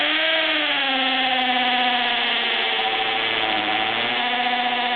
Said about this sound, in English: it's an 1/8 inch, and I just bought it today, this drill bit.